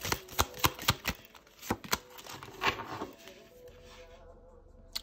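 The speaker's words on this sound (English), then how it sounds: "we're going to pull one more card just to see" Tarot cards shuffled in a quick run of crisp riffling snaps, close and fairly soft, slowing to a few scattered slaps before a card is pulled and the sound trails into near silence.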